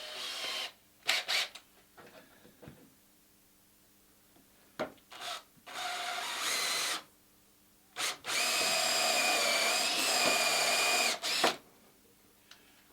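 A power drill with a countersink bit bores into wood for a rustic nest box, running in short whirring bursts and then a longer sustained grind, close and fairly loud, with pauses between.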